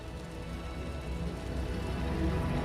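Heavy rain pours in the Wuthering Waves game world, an unbroken broadband hiss of drops on surfaces that builds slightly in loudness, with no voices over it.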